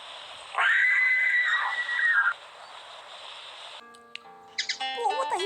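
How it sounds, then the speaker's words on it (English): A shrill, sustained scream rings out in the video game The Last Extinct Birds, one long wavering cry in a quiet scene, followed by chirpy bird-like calls and tonal game sounds. "what the hell was this scream?"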